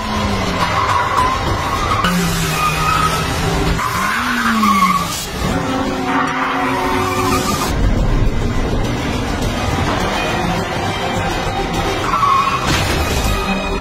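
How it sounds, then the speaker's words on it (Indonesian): On-screen car action plays out, with repeated loud tire squeals and skids sweeping up and down in pitch over a roaring engine. A few sharp thumps are mixed in, and no one speaks. "Sebastian langsung tancap gas menuju tower gondola"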